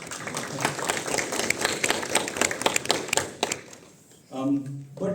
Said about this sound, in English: A quick round of applause for him.